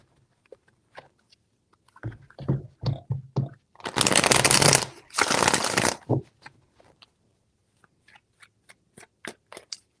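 Tarot cards being shuffled by hand at close range, a series of soft taps and flicks, then two loud riffling bursts, then light taps trailing off.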